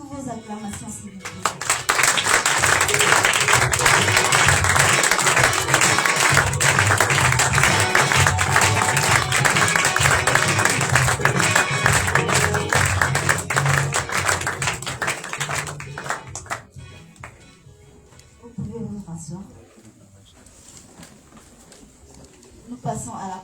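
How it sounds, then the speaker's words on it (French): An audience at a prophetic conference opening the Shavuot feast breaks into loud, sustained applause and cheering for about fifteen seconds, then it fades out and a voice speaks. "Sous vos acclamations, s'il vous plaît."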